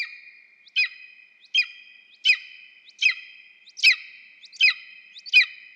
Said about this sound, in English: And here's the call of the golden eagle.